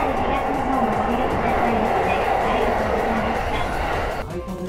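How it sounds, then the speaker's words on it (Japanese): Keihin-Tohoku Line commuter train running north out of Tabata station toward a tunnel, a steady loud rolling rumble and wheel noise throughout that shifts and drops slightly near the end, with no talk. "田端駅を出ると京浜東北線はすぐにトンネルに入ります"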